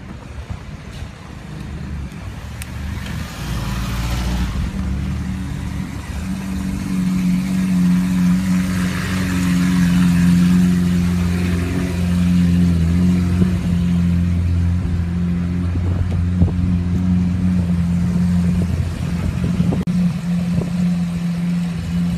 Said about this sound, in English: There's a Lambo startup.